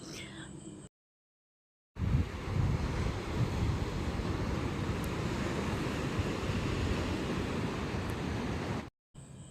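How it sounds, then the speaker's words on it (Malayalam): Cold morning wind blows at Varkala beach as a steady, rushing roar close to the microphone. It breaks off briefly near the start and again near the end. "നമുക്ക് നല്ല തണുത്ത കാറ്റും ഉണ്ട്"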